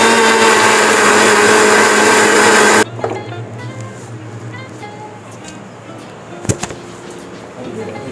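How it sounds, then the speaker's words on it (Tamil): A mixer grinder grinds masala for chicken gravy with a loud, steady motor whir for about three seconds, then cuts off abruptly, leaving quiet kitchen room noise and a soft clatter. "இப்போ வந்து நாம் இதை அரைச்சிக்கலாம்"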